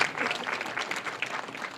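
Brief, fairly quiet applause from the crowd at a welcoming ceremony for repatriated Batswana of Namibian descent, a soft, even patter of many hands lasting under two seconds.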